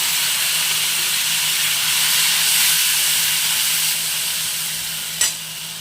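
Masala hits hot oil with green chili and nigella seeds in a pan, a loud, steady hissing sizzle that holds evenly and fades slightly toward the end, with one sharp clack near the close.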